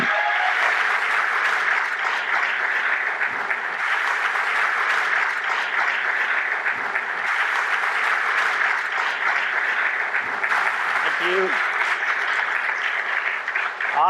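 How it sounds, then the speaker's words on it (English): A large conference audience at a festival talk gives a long, even round of applause, dense continuous clapping sustained without a break. "massive round of applause,"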